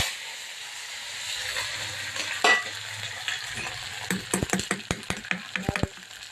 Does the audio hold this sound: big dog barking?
no